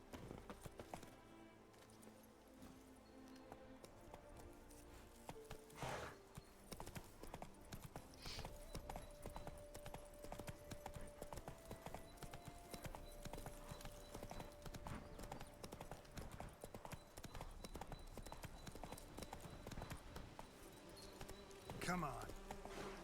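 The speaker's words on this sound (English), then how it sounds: "Horsey!" Horse hooves clip-clop steadily in The Witcher 3 game, a continuous rhythmic trot under buzzing ambience and background music, with a brief louder flourish near the end.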